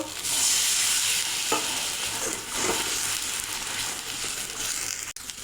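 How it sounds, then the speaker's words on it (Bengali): Water hits a fried spice paste for a tangy, spicy fish curry, and a loud hiss of sizzling rises at once, then settles into steady crackling frying with soft stirring scrapes close by. "আমি সামান্য একটু জল দেব"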